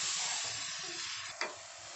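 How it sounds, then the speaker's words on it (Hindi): Washed, chopped spinach cooks lightly in a pan on a gas stove with a quiet, continuous hiss and sizzle, and a brief stir or scrape stands out near the end. "2 मिनट हो गया है हम पालक को पकाते हुए"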